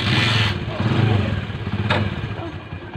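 A Bajaj motorcycle engine, repaired after hard starting, runs close by at a steady, even idle with a slight rise and fall, while voices come and go faintly over it.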